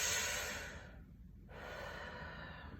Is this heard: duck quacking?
no